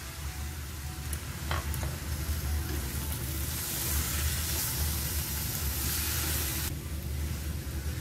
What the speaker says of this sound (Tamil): தக்காளி மசாலா எல்லாம் சேர்த்து நல்லா வதங்கி வரணுங்க.